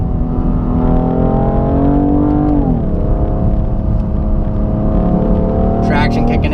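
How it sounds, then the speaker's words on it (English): BMW sports car with a double-clutch transmission accelerating hard, its loud engine note climbing, dropping sharply at a quick gear shift, then climbing again. "This car is so awesome with the double clutch transmission."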